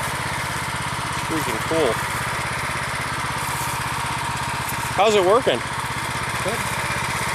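A Kubota Z600 engine powering a tractor at a plow day runs at a steady idle with an even low chugging pulse, while people talk nearby over it.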